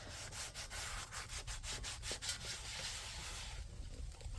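Steady scrubbing and rubbing on rusty cast iron cookware, a continuous coarse abrasive rasp with rhythmic strokes, fairly close and moderately loud, with no talking.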